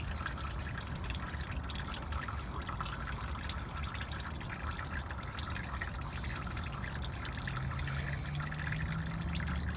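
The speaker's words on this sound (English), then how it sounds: "We'll just soak it in the water." Water drips and trickles steadily as a homemade bracelet soaks in a container, a continuous wet patter lasting throughout with a low hum rising near the end.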